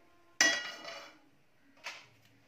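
A pan is set down in a home kitchen, giving a sharp metallic clank that rings briefly, followed by a softer knock a moment later. The sound is near and quiet, with no voices.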